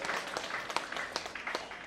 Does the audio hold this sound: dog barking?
no